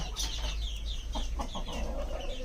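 A native hen in a backyard laying flock clucks in short repeated bursts close by, with other fowl faintly around her and a low steady background hum.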